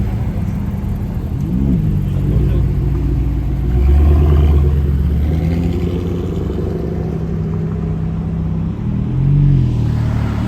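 Ferrari sports car near Paris, a low engine rumble with a rising rev partway through and another swell near the end, loud and close over traffic noise.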